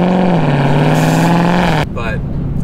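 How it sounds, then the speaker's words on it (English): A Dodge Charger Scat Pack 392 V8 idles loudly outside the car with a steady low drone and a light exhaust rattle, then the note cuts off abruptly into a rougher, quieter rumble. "I've noticed a bit of a rattle has popped up in the exhaust."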